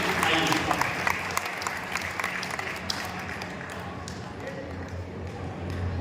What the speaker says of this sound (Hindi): तो एक बार जोरदार तालियों से जीवन सिद्धि जी का स्वागत करिए।